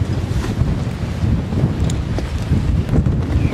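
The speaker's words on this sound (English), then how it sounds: "Sure wish this wind would die down just a little bit more." Strong wind blows across a harbor and buffets the microphone in a low, continuous roar, with gusts rising and falling and faint water and boat sounds beneath.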